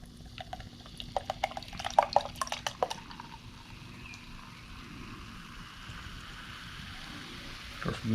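A chilled drink from a can pours out of a beverage cooler into a glass, first as a quick run of splashy drips and gurgles, then settling into a soft steady trickle.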